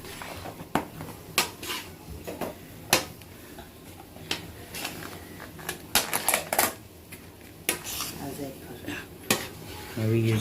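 Adadiya pak mixture with ghee stirred in a metal pan, giving loud irregular clanks and scrapes of a spoon against the pan, sometimes in quick bursts, close and clear over faint room noise.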